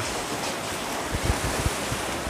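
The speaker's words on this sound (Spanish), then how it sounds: "Estamos no mar!" Sea waves at a beach near San Clemente del Tuyú, Argentina, a loud continuous wash of surf mixed with wind buffeting the microphone, with a few low thumps of breaking water.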